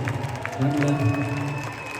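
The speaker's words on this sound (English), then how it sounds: "a big round of applause for my band" Crowd at a concert in Scotia Arena, Toronto, cheering and applauding for the band, a steady, dense roar of clapping and shouts filling the arena without pause.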